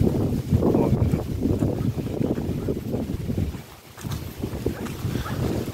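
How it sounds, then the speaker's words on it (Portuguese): Strong wind buffets the microphone outdoors near a tree on a summer day in the countryside, a loud, continuous low rumble that gusts throughout with only a brief lull. "Ventando bastante aqui, ó."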